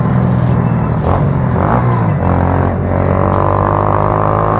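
A 150 cc motorcycle accelerating hard, close and loud, its engine pitch climbing through several gear pulls with brief dips between them.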